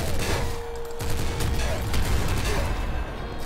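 Assault slugger gunfire in Nuclear Throne comes as a rapid string of loud, dense blasts layered over constant game noise.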